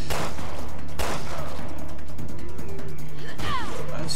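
Sharp handgun shots in Resident Evil Revelations 2 on PC, a few loud cracks spaced apart, one near the start and one near the end, over a low game hum and some background noise, with a voice briefly audible.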